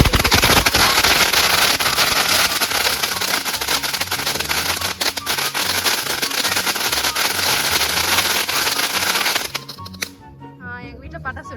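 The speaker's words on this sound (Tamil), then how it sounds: "எங்க வீட்டுல பட்டாசு வெடிச்சிட்டோம் பாருங்க." Diwali firecrackers burst at home at night in a dense, crackling barrage of rapid pops that runs for about ten seconds and then stops abruptly, followed by voices talking.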